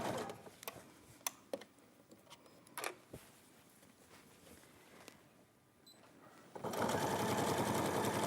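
A sewing machine stitches a piece of fabric, likely set to a longer stitch. It starts with a quiet, intermittent mechanical ticking and light clicks, then breaks into a loud, steady whirring run of rapid stitching near the end.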